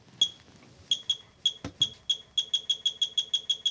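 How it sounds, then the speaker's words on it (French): A Geiger counter beeps sharply and irregularly at first near radioactive wood, then speeds up into a rapid, even series of chirps, fairly faint with a quiet background. "chaque fois qu'on entend un bip, là, c'est qu'il reçoit une particule radioactive"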